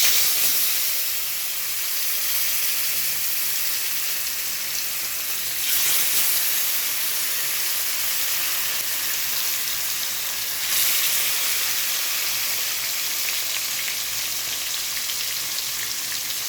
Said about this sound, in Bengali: এবার কড়াইতে তেল গরম করে নিয়েছি, এক এক করে মাছগুলি দিতে থাকবো।